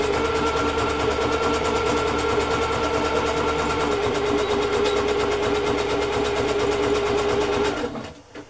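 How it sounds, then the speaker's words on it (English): A sewing machine stitches a pocket onto a handmade journal, running in a fast, even, continuous whir close by before stopping abruptly at the end. "I think it looks better with some stitching on it."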